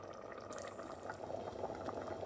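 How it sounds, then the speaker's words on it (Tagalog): Corned beef macaroni soup bubbles at a steady boil in a pot, a close, continuous burbling with no talking. "kumukulo na guys"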